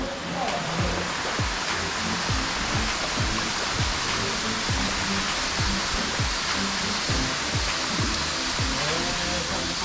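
Strong wind blows through a river gorge near a waterfall at Akaya Lake in Gunma, a loud, steady roar of rushing air and falling water, buffeting in gusts throughout with no clear voices.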